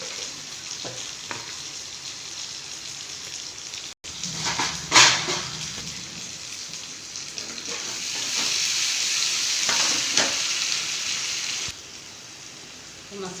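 Chili powder masala frying in a pan for fish fry, a steady broadband sizzle with scraping and stirring bursts, growing louder midway and then easing, with no voices.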